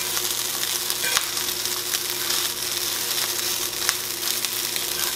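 Kiszka, a Polish blood sausage, sizzles and crackles as it fries in a pan for breakfast, with occasional stirring scrapes in a steady, close, continuous sizzle.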